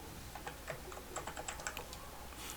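Computer keyboard typing in a quiet room, a brief run of light, close key clicks ending with a press of the Enter key, with no talk.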